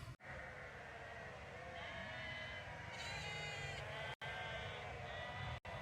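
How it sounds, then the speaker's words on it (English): Sheep bleating repeatedly near a Lake District mountain, several overlapping calls of moderate loudness over steady outdoor background noise, with brief dropouts. "I think the sound of sheep here would drive me insane."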